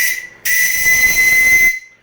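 Steam whistle on the steam launch Odette gives a short toot, then a longer loud, steady hiss-edged blast of about a second and a quarter, alone and close.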